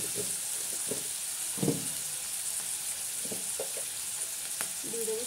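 Vegetables frying in a pan for vegetable Maggi masala make a soft, continuous sizzle with a few scattered stirring and scraping knocks throughout.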